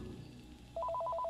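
Telephone ringing in the video game Accounting+, a repeated electronic two-tone trill starting partway through and continuing steadily, loud and clear over a quiet background.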